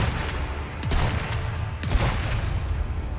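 Gunfire in Resident Evil 4 Remake: a few sharp shots close together, loud and up front, over steady background game noise in a brief burst.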